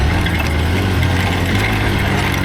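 A Hero Xpulse, a small budget adventure motorcycle, runs with a steady, fairly loud engine drone throughout, with no speech over it.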